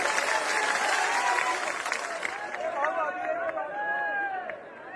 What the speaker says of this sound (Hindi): ताली बजा के अभिनंदन।